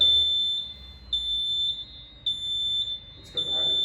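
A fire alarm in an office building sounding in repeated high-pitched electronic beeps, each tone held about a second with short gaps, loud and close, with a voice briefly audible beneath it.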